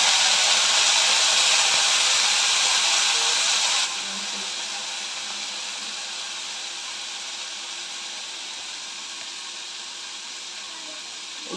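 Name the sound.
water added to hot cooking pot, sizzling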